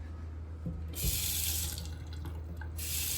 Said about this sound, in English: Well, at least the water works.